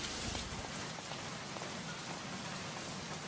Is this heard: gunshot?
no